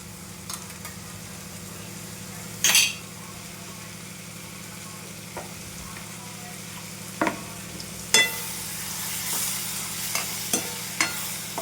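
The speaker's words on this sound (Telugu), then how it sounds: "okay friends, water పోసేద్దాము" Brinjal and tomato curry sizzling in a pan after water is poured in, a steady low simmering hiss broken by a few sharp louder sputters and clinks near the end.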